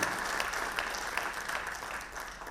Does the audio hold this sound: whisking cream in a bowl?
no